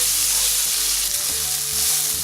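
Cod braising in a pan, with a steady, close hiss and sizzle of frying food running continuously and loud throughout, plus faint stirring movement and no voices.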